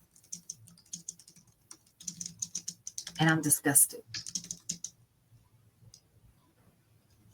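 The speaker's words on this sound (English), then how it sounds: "I hear you typing away" Computer keyboard typing in bursts of quick clicks, faint and intermittent under a person speaking during a talk-show conversation.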